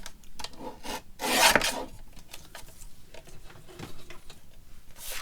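A paper trimmer slices through paper with a raspy sliding scrape that swells to a louder pass partway through, surrounded by quieter rubbing and handling noise, without speech.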